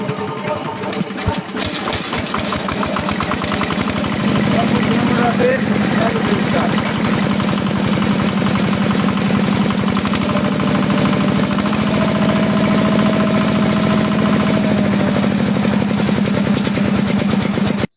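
A 185 model engine, earlier hard to start because of a compression fault, is cranked and catches, then runs with a loud, steady, knocking chug close by while people talk over it.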